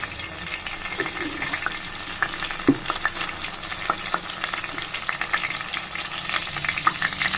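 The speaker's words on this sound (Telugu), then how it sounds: "ప్యాన్ వేడైన తర్వాత 2 to 3 టేబుల్ స్పూన్స్ ఆయిల్ వేసి ఆవాలు" Mustard seeds fry and pop in hot oil in a pan, a quiet steady sizzle punctuated by scattered sharp crackles and small pops, with occasional stirring and no talking.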